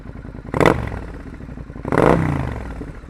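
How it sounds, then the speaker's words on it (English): A 2017 Triumph Thruxton R motorcycle, with part of its exhaust removed, idles close by and is given two quick throttle blips that rise to loud, raspy revs before dropping back to a rumbling idle. "I'll give you a quick rev."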